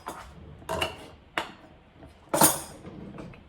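Spoon scraping and clinking against the metal insert of an Instant Pot while lentils and water are stirred, a few separate loud knocks and scrapes at uneven intervals with quiet gaps between.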